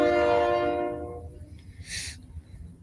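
A passing train sounds a long horn blast that fades away after about a second, leaving the low rumble of the rail cars rolling by and a brief hiss near the end.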